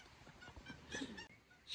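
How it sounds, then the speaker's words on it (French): A recorded monkey call is played back from a device in the jungle: a faint, short run of honking, nasal cries with low background hiss. "C'est un bruit de singe que j'avais enregistré"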